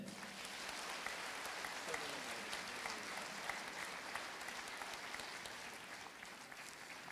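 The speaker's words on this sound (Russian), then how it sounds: "Ваши аплодисменты" Audience applause for a cathedral choir at a festival gala concert, a steady dense wash of clapping held at an even level throughout, with no voices heard.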